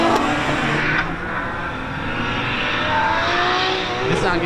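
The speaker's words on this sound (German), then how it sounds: "Nissan gegen BMW. Sechszylinder Turbo gegen Sechszylinder M-Sauger." Drift cars racing downhill at the Nürburgring, a turbocharged Nissan six-cylinder against a naturally aspirated BMW M six-cylinder: a loud, steady engine roar with rising and falling revs and tire noise, close by and without talk.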